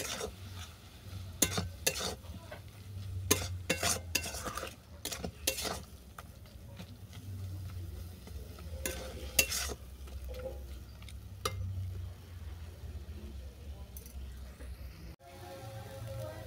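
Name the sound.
sautéing spiced snake gourd filling in a pan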